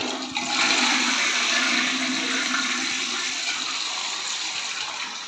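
A toilet cistern flushes after its button is pressed: a loud rush of water starts abruptly and pours steadily, close up, with no voices over it.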